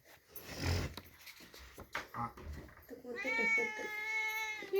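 A cat gives a drawn-out, clear meow after a few softer rustles and brief noises, close by.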